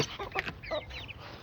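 Aseel rooster giving a few soft clucks and chirpy calls in a village setting during feeding time, fairly faint with rustling in the background.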